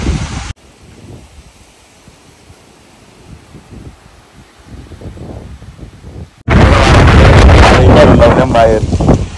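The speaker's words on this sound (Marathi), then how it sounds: "बाहेर फुल वारा सुटले बेकार एकदम फुल वारा सुटले" Strong wind blowing outside as a sudden first monsoon rain arrives, first as a low rustle, then as loud roaring gusts buffeting the microphone in the final few seconds.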